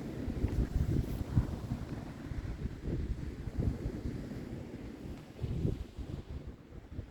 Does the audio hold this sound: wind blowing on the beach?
yes